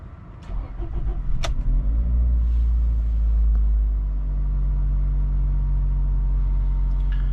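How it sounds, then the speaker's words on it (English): A 2006 Toyota RAV4 engine cranks and catches after a brief starter whir, then settles into a steady, loud low idle rumble that holds for several seconds. "so let's just start the car"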